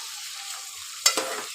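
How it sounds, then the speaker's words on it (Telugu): Vegetables frying in oil in a pan for sorakaya pappu, a soft steady sizzle broken near the end by a couple of sharper stirring scrapes, close by and with no voices. "ఇవన్నీ మంచిగా ఇట్లా కొంచెం మెత్తబడే వరకు మంచిగా ఫ్రై అయితే చేసుకోవాలి"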